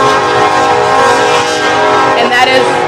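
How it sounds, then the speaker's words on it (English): A Union Pacific train rumbles steadily along the tracks, a loud, dense mechanical roar with sustained tonal hum throughout and a brief rise in intensity near the end. "All they did was go forward with the train"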